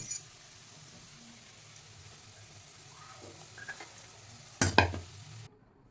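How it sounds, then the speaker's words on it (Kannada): An onion mixture fries in hot oil with a soft steady sizzle, close and faint, broken near the end by a sharp clatter of a utensil against the pan before the sound cuts off. "ಇವಾಗ ಈರುಳ್ಳಿ ಮಿಕ್ಸ್ ಮಾಡಿ ಇಟ್ಕೊಂಡಿರೋದನ್ನ ಕರ್ಕೊಬೇಕು"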